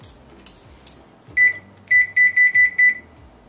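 An oven control panel beeps while being set to preheat to 375 degrees, a few soft key taps followed by a run of six short, sharp, evenly spaced electronic beeps, close and clear.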